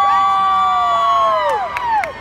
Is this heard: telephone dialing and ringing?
no